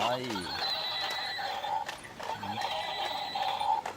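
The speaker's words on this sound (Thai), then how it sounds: "ตัวแรกเลยนะครับจ้าม้าลาย" A zebra neighs by a water-park pool, two wavering whinnies close together, with a voice talking over the sounds.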